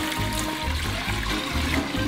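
Water runs and splashes steadily in a continuous pour, close by, with no talking.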